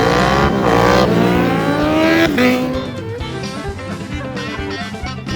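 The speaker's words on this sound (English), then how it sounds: "We got drag race. Let's go. Oh, Trisha got the jump." Cars launch in a drag race at a large Ohio car show, engines roaring loud and close as they rev hard and pull away, then fading into a lower rumble.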